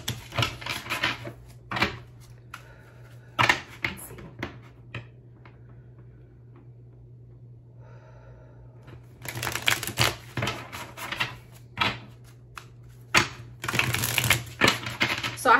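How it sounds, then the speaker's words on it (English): Tarot cards shuffled by hand in close, crisp riffling bursts, separated by quiet pauses, with a faint steady hum underneath. "I'm going to shuffle these cards. They do shuffle really nicely"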